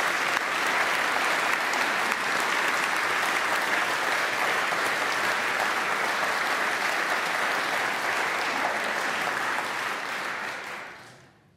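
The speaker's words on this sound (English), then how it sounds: "A round of applause for this inspiring partnership." Sustained, dense applause from an audience at a goldsmiths' craftsmanship and design awards ceremony, even and loud throughout before fading out at the end.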